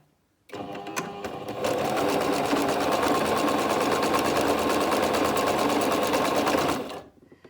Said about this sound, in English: I'm just going to do a straight stitch all the way along here